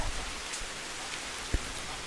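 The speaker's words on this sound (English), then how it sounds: "we're just going to enjoy this rain" Steady rain pours outside by a porch, a dense even hiss of drops on surfaces with one brief low thump partway through, with no voices.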